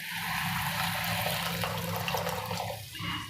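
Buttermilk is poured into a pot of simmering Kathiyawadi dhokli shaak, a continuous rushing, splashing liquid sound that stays steady and fairly loud for several seconds with no voices.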